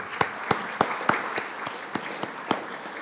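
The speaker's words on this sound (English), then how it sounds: "je demande aux membres de l'Académie de l'accueillir chaleureusement avec leur applaudissement" Academy members at a solemn annual plenary session clapping in a room, a sparse, rhythmic patter of hand claps from a modest audience.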